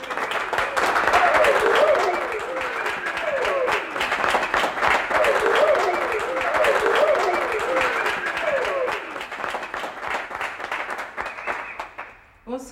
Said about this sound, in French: Mesdames et messieurs, applaudissez très fort la dame de l'auberge du Salut.